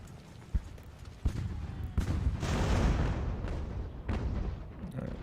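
Grapeshot artillery fire in the Ultimate General: American Revolution game: several sharp booming shots at irregular intervals, followed by a rumbling roll of battle noise that swells and fades, with scattered impacts.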